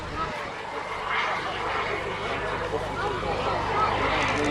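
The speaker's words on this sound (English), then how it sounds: "Hugely powerful aeroplane" A hugely powerful late-1950s jet aeroplane roars past at an air show at a former RAF airfield near York, a loud steady broadband rumble with a voice talking underneath.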